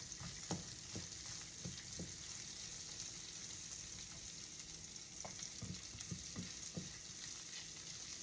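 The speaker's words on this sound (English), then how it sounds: "I'm keeping the onions whole, a bit of butter. And we're just gonna let this cook down." Onions sizzle steadily in melted butter in a pan, a constant bright frying hiss with occasional soft pops and stirring clicks, close and alone with no talk.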